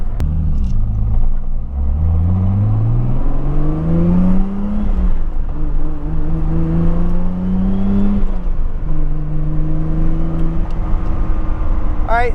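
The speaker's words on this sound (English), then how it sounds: "All right, so I just accelerated because I wanted to see if it would lean out" A 2JZ-swapped Nissan 240SX with a turbo accelerates hard, its engine note climbing through rising harmonics, dipping at shifts and climbing again, loud and close throughout with a steady rumble underneath.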